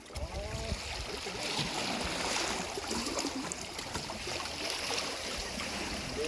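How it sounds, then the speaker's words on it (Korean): Continuous broadband rush of sea waves washing and churning nearby at Gadeokdo, Korea, steady and fairly loud with no voices. "자 파도 소리 감상하십시오"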